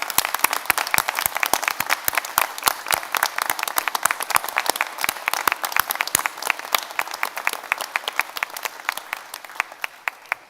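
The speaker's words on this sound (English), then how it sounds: "give them a round of applause" A graduation audience at Ulster University's Magee campus in Derry/Londonderry applauds, dense steady clapping from a large crowd with a few sharp individual claps standing out, sustained and loud before easing off slightly at the end.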